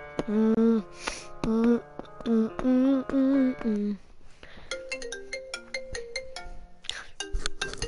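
A melodic phone ringtone plays within a trap music mix, with repeated tonal phrases, clicks and percussive hits, fairly loud and close.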